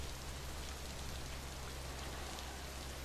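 Steady rain pours down without a break in the video game Death Stranding, a dense hiss of drops on surfaces with a low constant hum underneath.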